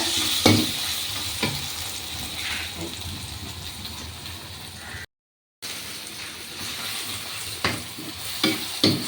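Onions fry in a pan with a continuous close sizzle, punctuated by a few stirring scrapes and a short dropout midway.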